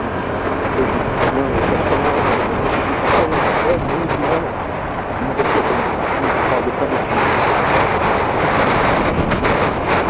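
A motor hums and rumbles steadily outdoors, mixed with gusty wind buffeting the microphone across the whole stretch.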